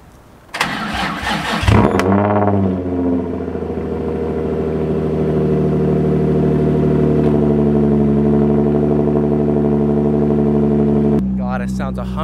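A Nissan G35 with a straight-piped exhaust cranks and fires up, then settles into a loud, close, raspy idle with a steady droning rumble that rises slightly before cutting off near the end, with a voice briefly audible.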